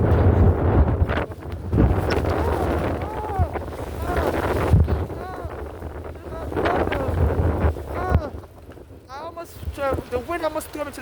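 Strong wind buffets a microphone on a city street, a heavy rumbling roar that surges and eases for the whole stretch while someone talks over it.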